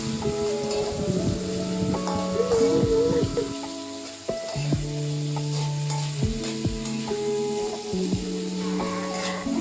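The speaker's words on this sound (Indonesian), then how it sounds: "masukin buncisnya yang udah diiris tipis-tipis" Sliced green beans sizzle and crackle in a hot pan, with a spatula scraping and stirring amid steady background tones.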